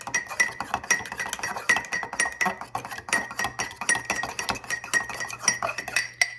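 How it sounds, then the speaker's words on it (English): A garlic and mozzarella cheese mixture being stirred in a bowl, with a spoon clinking against the sides in a quick, regular rhythm, close and fairly quiet, without any voices. "And then I'm gonna give this a stir."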